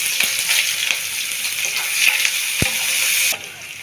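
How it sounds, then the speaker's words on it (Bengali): Onions spit and crackle loudly in hot oil, a close, bright sizzle dotted with sharp stirring clicks, cutting down abruptly to a softer hiss just before the end. "এখন আমি এই তেলের মধ্যে পেঁয়াজ দিয়ে দেব।"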